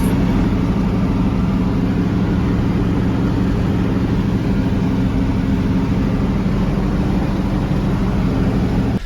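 A 1965 Mustang with a new carburetor rumbling steadily while driving, a continuous low engine drone with road noise throughout and no talking.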